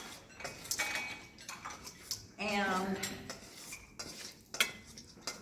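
Clinking utensils scraping and knocking against a bowl as pasta salad with pears and crumbled cheese is tossed, a series of close, bright clatters with some quiet talk.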